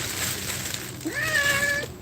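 A male tabby cat gives a single drawn-out meow with a rising then falling pitch, close to the listener, against a steady background hum.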